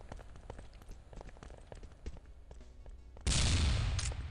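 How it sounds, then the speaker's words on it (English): A sniper battle in an online team shooter match plays out as a rapid spread of gunfire cracks, then a loud, dense burst of shots and impacts swells up near the end. "it's a battle of the snipers"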